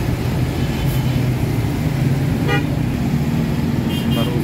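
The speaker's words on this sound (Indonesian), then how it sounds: "itu ada bus PT Barumun melintas" A PT Barumun bus passes close by near a bus ticket office and departure parking area, its engine roaring steadily while the horn sounds in short toots about midway and again near the end.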